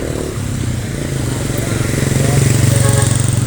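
Motorcycles idle and rev in jammed, flooded street traffic near Bahay Kawayan in San Juan, Taytay, a steady low engine drone that swells louder toward the end, with someone talking over it.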